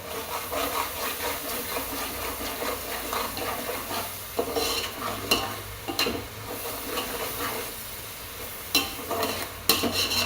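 Paneer biryani masala with tomato frying in oil in a pan, stirred with a spoon: a continuous sizzle with scraping strokes and occasional sharp clinks against the pan, close and fairly loud, no talking.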